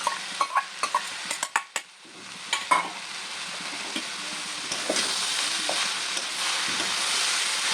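Curry filling of cauliflower and peanuts for singara sizzles in a pan while a spoon stirs it, with sharp scraping clicks early on, then a steady frying hiss.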